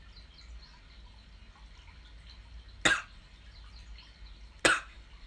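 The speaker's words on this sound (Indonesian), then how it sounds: "batuk mulu ya" Two short, sharp coughs, a couple of seconds apart, close by over a quiet background hum.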